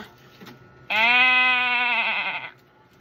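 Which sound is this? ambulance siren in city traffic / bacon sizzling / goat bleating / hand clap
goat bleating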